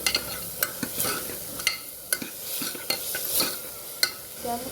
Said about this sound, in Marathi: त्यामध्ये बटाटे घालून घ्यायचे व वटाणे घालून घ्यायचे। त्याला हलकी परतून घ्यावे।